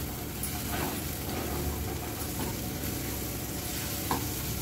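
Ridge gourd peel chutney sizzles and is stirred in a pan, a steady close frying hiss with faint scraping of the spoon and no talking.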